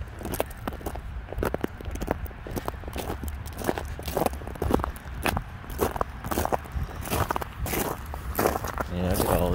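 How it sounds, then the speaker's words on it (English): Footsteps crunch over ice-covered dead grass on a winter estate grounds, a loose irregular series of crisp crackling steps close by, with people talking over them. "You hear that grass crunching under our feet"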